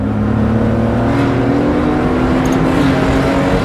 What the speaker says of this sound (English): You hear that car behind me trying to race?